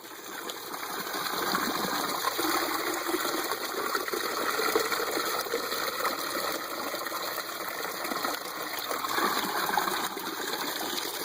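Water gushes steadily from the siphon of an above-bed aquaponic grow bed, a loud, even rushing that runs unbroken from start to finish with no voices.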